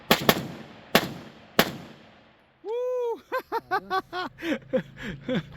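An AK-47 rifle fires 7.62x39 rounds at an outdoor range, three sharp loud single shots spaced about a second apart, then silence and a tonal beeping sequence after.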